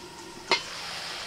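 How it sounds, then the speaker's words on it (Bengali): Country chicken is stirred in a pan with a soft sizzle underneath, marked by two brief scraping clacks of the spoon against the metal. "কিছুক্ষণ নাড়াচাড়া করে ঢাকা দিয়ে দিচ্ছি।"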